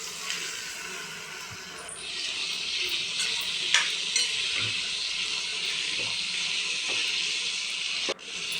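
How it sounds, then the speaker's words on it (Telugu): Ivy gourd fries in oil in a kadai with a loud, continuous close sizzle, broken by occasional scrapes and taps of a stirring spoon. "ఇప్పుడు కళాయిలో ఆయిల్ పోసుకొని దొండకాయలు వేసి కొంచెం బాగా వేయించుకోవాలి"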